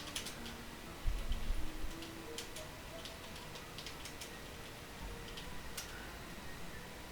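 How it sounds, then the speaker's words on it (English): Faint, quick clicks of keys on a computer keyboard entering a console command, a scattered run of light taps close to the microphone over a quiet background hum, with no one speaking. "Click the tilde key to open the console, and we will enter our first teleport command."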